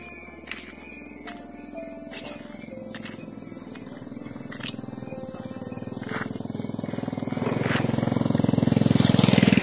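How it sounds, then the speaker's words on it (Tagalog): Motorcycle engine droning steadily, growing louder toward the end under strong wind rumble and buzzing, with no clear talk. "May motorsiklo."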